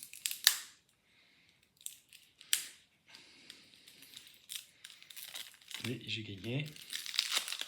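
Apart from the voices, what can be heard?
unwrapping a pack of game cards off camera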